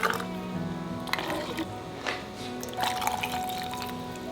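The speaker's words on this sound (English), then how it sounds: "we're gonna go ahead and ladle the brine right into our jar" Pickle brine is ladled into a packed canning jar of dill pickles, giving soft liquid pours, drips and trickles with small clinks in a quiet kitchen, close and fairly faint, with no talking.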